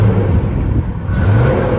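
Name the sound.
car engine running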